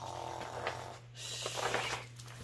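A voice imitates snoring during a children's storytime, giving a few soft, drawn-out snore sounds that are fairly faint and stand alone without other talk.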